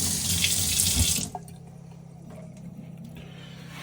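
Tap water runs steadily from a cabin faucet as a bottle is rinsed off, a close hissing splash that stops abruptly, leaving quiet room tone.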